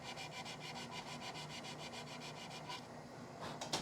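Sandpaper rubbing steadily over a cherry wood yarn bowl in quick back-and-forth strokes, a close, even rasp that runs throughout and then stops briefly near the end.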